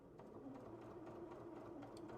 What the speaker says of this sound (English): let's go ahead and sew over some denim material